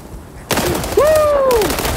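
Gunfire in a World War 3 shooter: a sharp burst of shots, then a second heavier volley that rings on loudly, with a rising whistling tone sliding through the middle.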